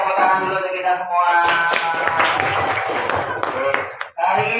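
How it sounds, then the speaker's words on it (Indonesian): A fourth-grade class of schoolchildren claps hands together in a classroom, a dense burst of clapping mixed with children's voices, stopping abruptly near the end. "Tepuk tangan dulu untuk kita semua."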